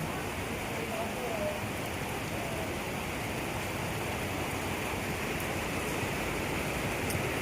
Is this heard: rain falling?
yes